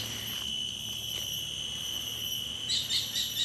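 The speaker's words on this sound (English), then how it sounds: "you can actually hear the jungle sounds," Cicadas drone in steady high-pitched bands in the jungle on Siloso Hill, Singapore, with a few brief bird chirps near the end.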